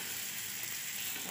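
Thalipeeth paratha frying in hot oil, giving a steady, close, even sizzle that fills the whole short moment without pause.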